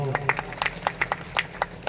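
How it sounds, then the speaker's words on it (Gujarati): An audience at a satsang claps in a loose run of separate hand claps with a murmuring crowd underneath. "ડાયરા મહારાજની એકવાર તાળીથી વધાવો"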